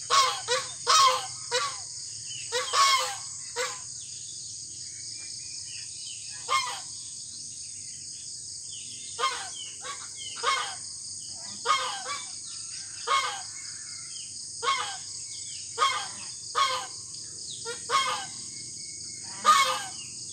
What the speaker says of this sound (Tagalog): Ang mga alarm clock namin na mga gansa at napakaingay